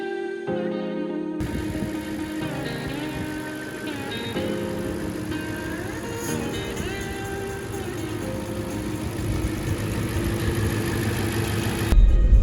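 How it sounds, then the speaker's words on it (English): A 4.2-litre V8 in an Audi S6 C5, freshly overhauled after a head gasket fault and fitted with a new exhaust, runs steadily at a smooth, close idle throughout, with a slight swell in level near the end. "engine is running sweet as"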